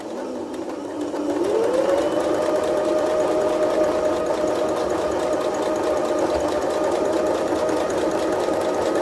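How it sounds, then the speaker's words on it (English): Sewing machine back stitching a fabric face covering, its motor whirring up to a steady, continuous hum with rapid needle chatter, close and unbroken for several seconds. "So we'll just start by back stitching."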